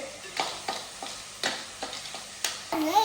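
Food frying in a pan is stirred in quick, regular strokes, each scrape rising over a low sizzle, about two per second, close and clear.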